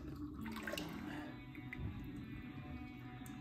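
Warm engine oil drains from a Kawasaki Ninja H2 into a pan in a steady, continuous low trickling pour, fairly quiet and unbroken throughout.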